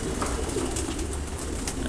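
Racer pigeons coo softly in a loft, their low murmuring calls repeating over a continuous rustling background, with no voices present.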